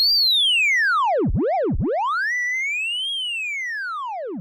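Moog Labyrinth synthesizer tone swept by an asymmetrical LFO: a single clear pitch dips sharply twice, then glides slowly up and gently back down, loud and alone.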